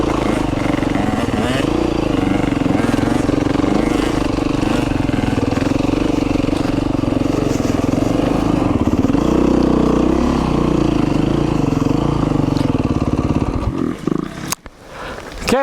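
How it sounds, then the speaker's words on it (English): A dirt bike engine idles and churns steadily on a rough trail section during a father-and-sons ride, loud and continuous throughout, with a brief drop and a few sharp knocks near the end. "just keeping the bike running"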